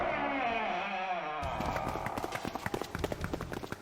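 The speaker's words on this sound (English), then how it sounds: "Footstep noises." Footsteps in the video game 999: Nine Hours, Nine Persons, Nine Doors, a run of quick, even steps starting after a brief swell of music and continuing steadily to the end.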